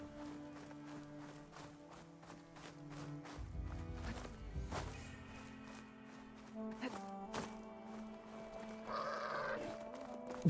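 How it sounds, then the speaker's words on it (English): Goat bleating in the video game Horizon Forbidden West, a few short bleats over soft game music and ambient tones, with footsteps and rustling movement nearby at low volume. "Greeted by a goat."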